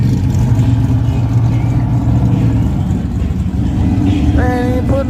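A drag racing car spins its tires at an outlaw drag strip at night, with a loud, continuous engine roar and tire noise filling the whole stretch and a brief higher whine near the end.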